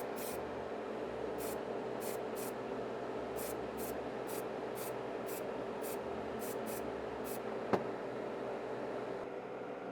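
Spray can of Vallejo acrylic matte varnish clear coat hissing steadily onto a Gunpla Destiny Gundam model, a continuous close spray with faint recurring clicks and one sharp tap late on.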